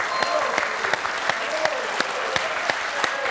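Studio audience on a quiz show applauding a contestant, steady close clapping from a modest crowd with individual sharp claps standing out in an even rhythm.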